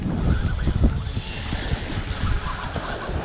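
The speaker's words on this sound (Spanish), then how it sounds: "Escuchen ese carrete también" Fishing reel drag spins out in a steady, buzzing ratchet while a shark is reeled in off Honeymoon Island, close and continuous under rough outdoor wind noise.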